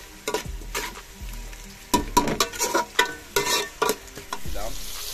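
Bottle gourd and shrimp fry in a pan, producing a loud close sizzle broken by a quick run of scraping, clattering stirs with a spatula.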